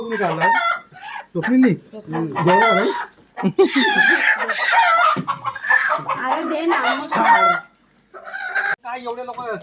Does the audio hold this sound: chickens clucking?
yes